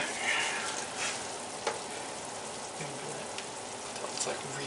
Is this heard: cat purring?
no